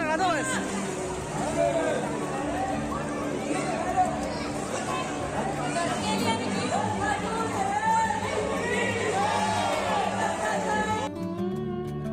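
Dense chatter from a crowd of devotees gathered at Shyam Kund by the Khatu Shyam temple, many voices overlapping in a steady babble with children's calls rising above it, close and continuous throughout.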